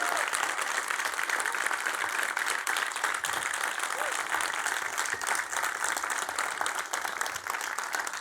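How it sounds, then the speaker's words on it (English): An audience applauds at the end of a conference talk, dense sustained clapping from many hands filling the room at an even level throughout. "Another round of applause, please, for Katie Fenn"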